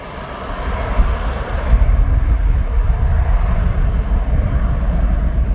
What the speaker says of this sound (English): this VistaJet is making his way in